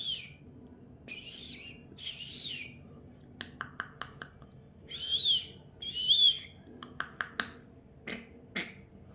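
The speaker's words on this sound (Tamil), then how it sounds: "இது குக்கு." A cuckoo calling, a few clear two-note hoots standing out among short sharp clicks and other bird sounds, moderately near against a quiet background.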